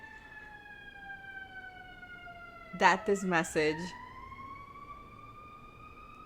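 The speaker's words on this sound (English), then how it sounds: "that's the ambulance." An ambulance siren wails steadily in the background throughout, its tone slowly shifting, while a voice speaks briefly over it midway.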